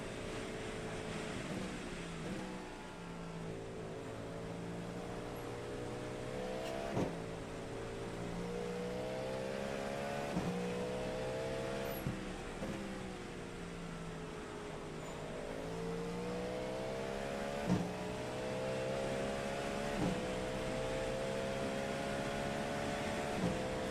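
Race car engines at Le Mans in iRacing, several tonal engine notes rising and falling through gear changes as cars overtake, with occasional clicks and no talk.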